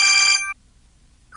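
A telephone rings with a bright electronic ringtone, an incoming call from Ali: one loud half-second burst of steady tones, then silence before another ring starts at the end.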